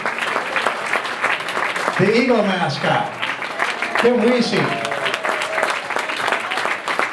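Banquet audience at a county awards dinner applauds steadily throughout, with someone talking over the clapping and a second voice briefly joining.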